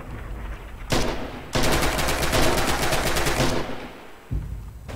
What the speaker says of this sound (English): They hear the gunfire.